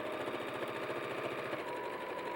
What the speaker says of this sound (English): I want to set my machine so it'll stop with the needle down in, and we'll just start stitching.